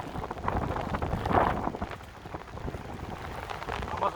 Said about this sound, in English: we're gonna end the video pretty soon because I can't stay too long in the rain here